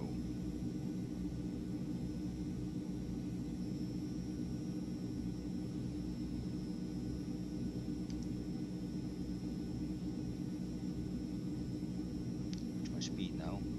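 A radio-controlled model C160 Transall cargo plane flies low with a steady, droning engine rumble that holds evenly from start to finish, and a few faint clicks come near the end.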